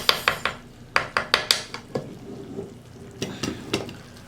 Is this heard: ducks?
no